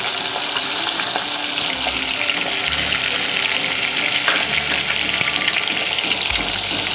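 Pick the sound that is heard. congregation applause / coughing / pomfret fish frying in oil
pomfret fish frying in oil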